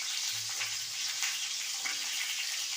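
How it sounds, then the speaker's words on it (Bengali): Cashews, almonds and green chilli fry in a hot pan with a dense, continuous sizzle and crackle close by, steady throughout with no talking. "এবার সব কটা জিনিসকে আমি একটু ভেজে নেব"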